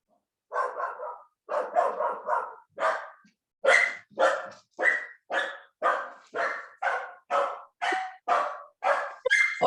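A dog barks repeatedly, about fifteen loud, close barks in a steady rhythm, some higher and some lower in pitch, with no talking.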